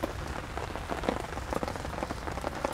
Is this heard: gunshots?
no